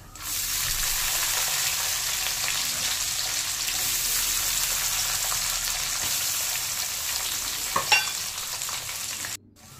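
Chopped coconut with five-spice tempering frying in hot oil in a pan, a loud continuous sizzle with soft stirring scrapes, a brief clatter near the end before it cuts off.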